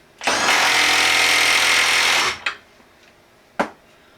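A Milwaukee M12 3/8-inch stubby impact wrench tightens a nut with one loud, sustained rattling burst of about two seconds, followed by two brief, sharp blips, with no talking.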